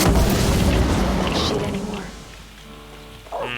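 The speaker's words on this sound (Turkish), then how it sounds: "Şunlar da patlar zaten. Patladı." An explosion in the video game Far Cry 6: a loud, broad boom with rumbling debris that fades over a couple of seconds into quieter game ambience.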